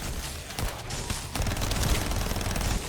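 Rapid, dense assault rifle fire from the video game The First Descendant rattles continuously for several seconds, loud and close, with no speech over it.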